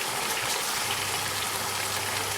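Water poured into a pot of lamb leg roast marinade makes a continuous close gushing, splashing rush with a faint low hum beneath, no voices.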